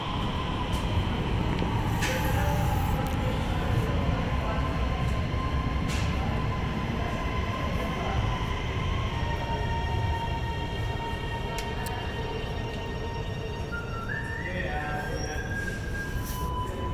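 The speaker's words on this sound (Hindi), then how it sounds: "बाकी ऑरेंज ट्रेन की तरफ चलते हैं इससे पहले कि स्टेशन बंद हो जाए।" A Lahore Orange Line metro train at a station gives a continuous loud rumble with metallic wheel squeals and high whines, with scattered clanks and faint station noise throughout.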